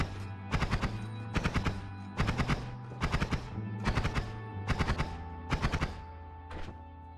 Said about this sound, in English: each noise you hear there is a cast block